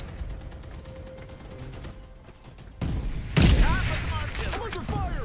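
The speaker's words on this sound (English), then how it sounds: "I'm under fire!" Gunfire in the battle-royale video game Farlight 84 arrives as bursts of shots and mechanical clatter, growing louder and denser in the second half, with a game voice line heard over it.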